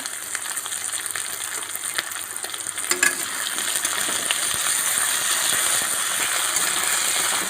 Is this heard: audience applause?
no